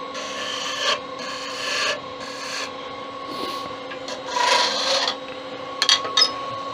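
Wooden Venus figurine being sanded on a wood lathe, with repeated rasping rubs in short bursts over a steady motor hum, close and fairly loud.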